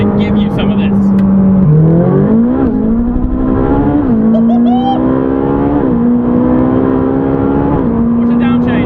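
A Ferrari 458 Speciale's engine drones loud and close from inside the car, pitch climbing and dipping through several quick dual-clutch gear shifts, with faint voices underneath.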